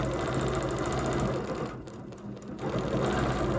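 A sewing machine stitching a quilting design with a ruler runs in a fast, steady mechanical whir, pausing briefly in the middle before starting up again close by.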